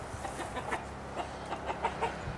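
Chickens on an allotment plot cluck in short, repeated bursts at close range, fairly quiet, with no talking.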